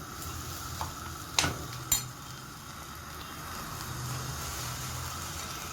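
Shrimp fry in a pan, giving a steady close sizzle, with a couple of sharp utensil clacks against the pan as they are stirred.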